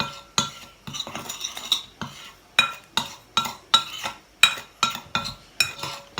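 Tapioca starch, salt and sugar stirred together in a mixing bowl for corn tako, giving a steady series of scraping clinks from a utensil against the bowl, close and rhythmic, with no talk.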